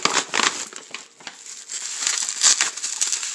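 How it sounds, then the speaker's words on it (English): Bubble wrap around a baseball card package crinkles and crackles up close, irregular rustling bursts and small pops coming in uneven clusters as the packing is pulled apart. "People do a good job with the bubble wrap."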